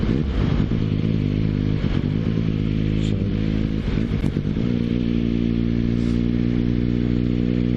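A motorcycle engine thrums steadily and loudly while riding at about 30, its low pitch dropping slightly as it eases off, with occasional rattles and wind noise.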